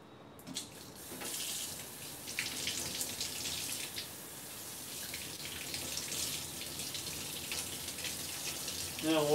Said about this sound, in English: I'm shaking the soapy water around.